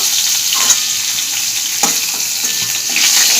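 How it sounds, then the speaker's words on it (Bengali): Pointed gourd frying in oil with salt and turmeric gives off a loud, dense, steady hiss close up, broken by a few scraping stirs and spatula knocks; no voices. "তেল দিয়ে দিলাম, পটলটা নুন হলুদ দিয়ে ভেজে নেব।"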